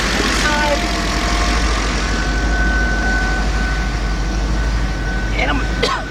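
A Lincoln LS engine idles steadily during heater control valve work, its coolant bleeder left open, a constant low rumble running throughout with a faint whine and a brief clatter near the end.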